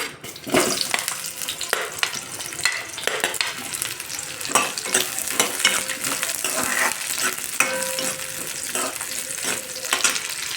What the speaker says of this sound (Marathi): तेल चांगलं तापलंय. आता आपण त्यात कांदा टाकून घेऊया.